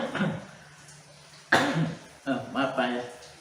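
A person coughs sharply a couple of times, close to the listener, with throat clearing and brief speech around the coughs.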